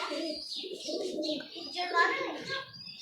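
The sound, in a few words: pigeons cooing on rooftop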